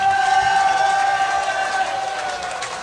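An audience claps and cheers for a polka band at a 1976 polka party show, a steady close wash of applause that holds for a few seconds and fades slightly near the end.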